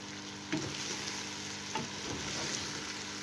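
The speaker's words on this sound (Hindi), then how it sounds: "हम इसे बिल्कुल स्लो फ्लेम पर इसी तरह फ्राई करेंगे।" Beef trotters fry gently over a slow flame, giving a steady, soft sizzle with a few faint stirring clinks and no voices.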